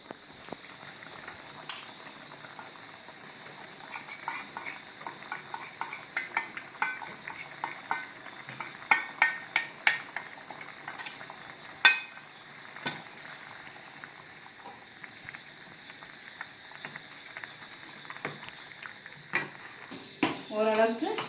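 Gram flour batter mixed in oil is stirred in a pan while cooking Mysore pak, the sweet. A spoon makes intermittent scrapes and clinks against the pan over soft bubbling, with a few sharper knocks and no talking.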